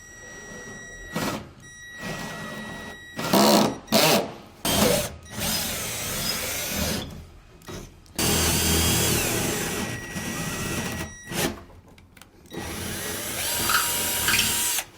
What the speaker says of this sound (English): we're using a 7/16 bit in order to get the holes drilled